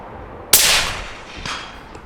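A single sharp, loud rifle shot fired at a fox while night foxing with thermal scopes cracks out and decays quickly, followed a second later by a fainter echo or impact thud.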